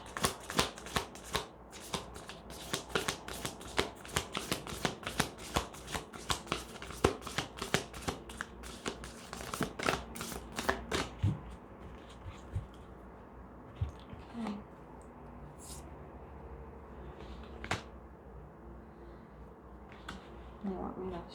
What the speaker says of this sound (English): You want me to shuffle one more time?